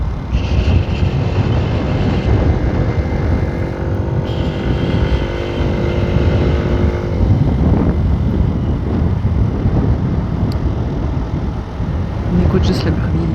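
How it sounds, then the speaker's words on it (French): A Beta AR50 moped engine runs steadily on a ride, droning with shifting revs and some wind buffeting, loud and close throughout. "On écoute juste le bruit, le son du moteur."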